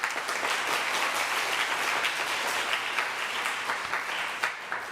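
A church congregation at a Mandarin-language Sunday worship service applauds to thank a visiting pastor, producing steady, dense clapping that fills the room for about five seconds without voices over it.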